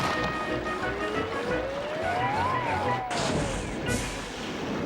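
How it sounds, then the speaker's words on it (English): Toy engine Thomas braking hard amid a steady rumbling bed: a squealing tone slides upward, peaks, then falls away as the brakes bite, ending in a brief burst of hiss. "called Thomas's driver and applied the brakes"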